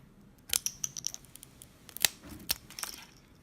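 Scissors snip through a plastic straw several times at close range, sharp crisp cuts with small clicks and rustles between them, in an otherwise quiet space.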